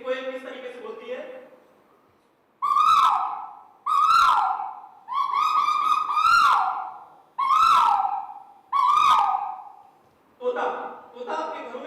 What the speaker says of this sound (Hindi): कोयल की आवाज देखिए, कोयल किस तरीके से बोलती है।